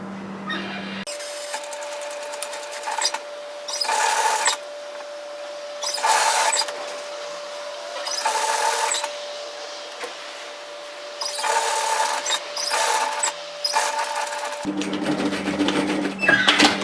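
Home sewing machine stitching a bomber-style varsity jacket, short bursts of whirring stitches repeating with pauses between them over a faint steady hum.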